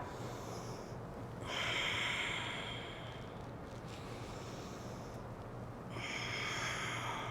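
Deep, slow breaths drawn in and let out during a yoga exercise, two long airy breath cycles, close and fairly quiet with no talking.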